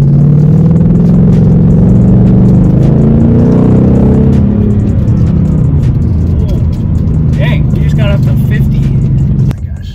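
A Mustang GT engine revving while driving, with a loud continuous low rumble that rises in pitch as the car accelerates, close-up and dominant throughout, with people talking over it.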